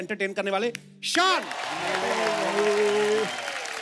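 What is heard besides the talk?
studio audience applause welcoming a singer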